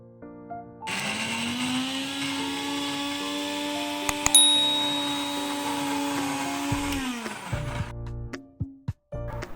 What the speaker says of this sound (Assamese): মিক্সি বাতিটোত দি ধুনীয়া পেষ্ট এটা বনাই ল'ম